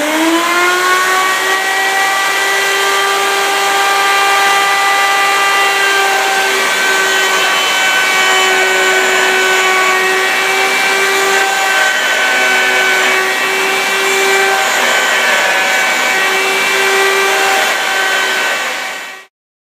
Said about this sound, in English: I got stop blocks and guide blocks to try to guide this thing around the router bit